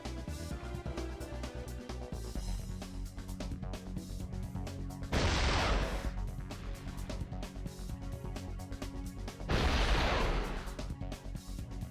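Gunfire in the 1999 video game 007: Tomorrow Never Dies, with rapid clicky shots under a game soundscape and two loud bursts of explosive blasts.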